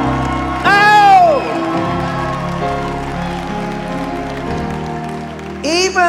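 A church healing-crusade congregation shouts and cheers with whoops, a loud burst near the start and another at the end, while a preacher's voice and steady crowd noise carry on between the outbursts.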